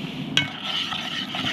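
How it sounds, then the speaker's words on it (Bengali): Milk, milk powder and sugar stirred together in a pot for kheer sondesh, a steady soft scraping swirl with one sharper clink near the start and no talk. "ভালো করে মিশিয়ে নিচ্ছি।"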